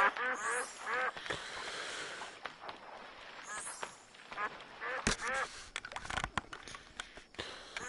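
Ducks quacking in the VirZOOM Arcade video game, repeated nasal calls amid game noise and splashy clicks, with a voice speaking at times.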